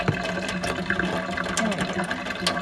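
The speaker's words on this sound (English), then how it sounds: "just got the water running" Tap water runs from a kitchen faucet in a steady, fairly close splashing stream, joined by a few light clinks.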